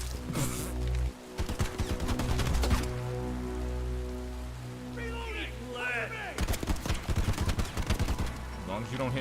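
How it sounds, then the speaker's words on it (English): Missiles launching and exploding in the first-person shooter Bright Memory, a run of loud rapid-fire bursts and blasts near at hand, then a quieter stretch with light crackles before another dense salvo of sharp impacts. "Actual missiles."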